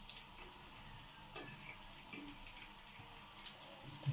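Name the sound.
onions frying in oil or ghee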